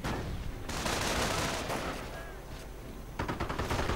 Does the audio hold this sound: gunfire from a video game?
yes